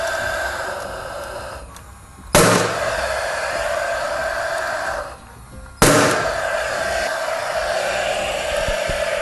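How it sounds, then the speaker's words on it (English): Two sharp, loud nail-gun shots, a few seconds apart, drive fasteners into Hardie plank fibre-cement cladding over a steady background hum, with no talking. "hold it in place, again with the nail gun, drive it home"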